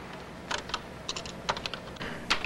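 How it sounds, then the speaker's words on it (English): Keys typed on a Color Computer keyboard as a short program is entered, a run of quick, irregular clicks in small bursts, fairly close and moderately loud, with no talking. "type in this short little program"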